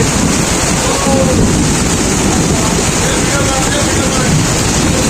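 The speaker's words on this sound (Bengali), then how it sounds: "সিগন্যালের বৃষ্টি হচ্ছে সুন্দরবনে" Heavy storm rain in the Sundarbans near the mouth of the Bay of Bengal, a dense, continuous roar of rain and wind buffeting the microphone, loud and unbroken throughout.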